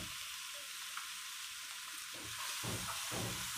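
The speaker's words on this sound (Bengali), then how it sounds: "আমরা এখন সেই মাছ ভাজা তেলের মধ্যেই দিয়ে দেব 1 কাপ পরিমাণ পেঁয়াজের কুচি।" Chopped onion, about a cup, sizzles steadily in hot oil left from frying sea fish, a constant broad hiss that grows a little louder and busier toward the end, with no voices.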